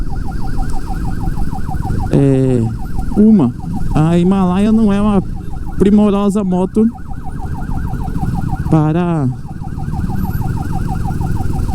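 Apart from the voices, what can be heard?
federal police siren in traffic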